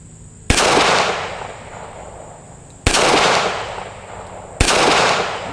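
A Smith and Wesson 642 revolver fires three loud, sharp shots at a target, spaced about two seconds apart, each followed by a lingering echoing decay outdoors.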